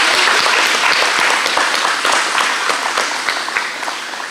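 At a school awards ceremony for IGCSE and A-level results, the audience gives Year 11 students a warm round of applause, loud, dense clapping that starts full and slowly thins toward the end.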